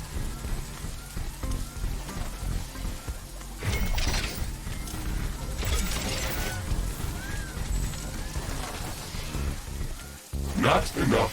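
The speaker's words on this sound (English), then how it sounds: "It's raining." Steady rain pours down in the video game The Riftbreaker, a dense continuous hiss with occasional heavier splashes and mechanical clanks mixed in.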